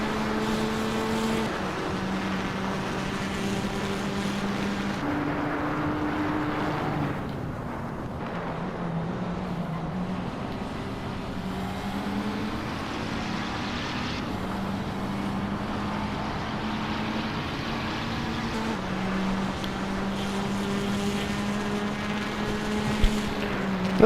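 A GTR and a McLaren GT3 race car drive in a racing game, with steady, loud engine drones that shift pitch up and down through gear changes across a continuous run.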